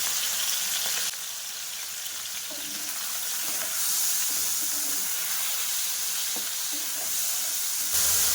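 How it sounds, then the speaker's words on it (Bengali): Chicken pieces lightly frying in a pan with oil, a steady sizzle and hiss with occasional stirring clatters, close and alone with no talk. "আর চিকেনের টুকরোগুলো আমি খুব ভাজা করব না,"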